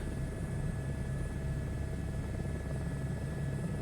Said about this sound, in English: we're having fun with the helicopter